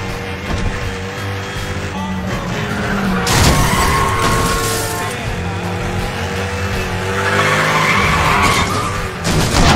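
Street race in Need for Speed The Run, with cars roaring and tires skidding near and loud throughout, a sharper screech around the middle, and engine noise carrying steadily over police radio chatter.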